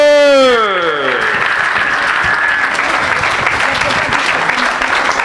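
Church congregation bursting into loud, sustained applause and cheering after a voice's sung or sustained call, the clapping dense and continuous throughout.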